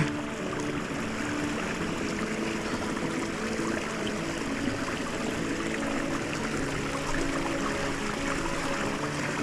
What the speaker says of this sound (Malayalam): ചിക്കൻ കഴുകാൻ സെപ്പറേറ്റ് പാത്രമില്ല, അതുകൊണ്ട് ഇതിലിട്ട് തന്നെ കഴുകാം.